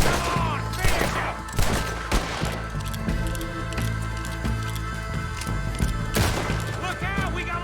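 A gunfight in Red Dead Redemption 2: a dense string of sharp shots and cracks, some rapid, set over a loud, droning musical score with occasional bigger impacts.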